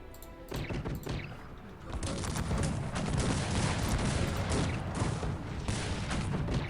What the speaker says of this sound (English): Multi-barrel cannons are cleaning up so nicely.